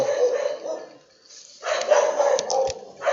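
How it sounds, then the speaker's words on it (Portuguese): Female dogs bark nearby in bursts, with a short lull midway before a louder stretch of overlapping barks and yips. "Ai meu Deus, essas cachorras."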